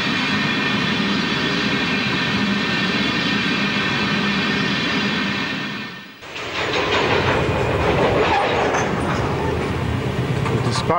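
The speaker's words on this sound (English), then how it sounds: "The dispatcher has allowed the following train through the red light." A train passes on the railroad, a loud, continuous rumbling roar that briefly dips around the middle and then returns as a rougher, clattering rush of wheels and cars.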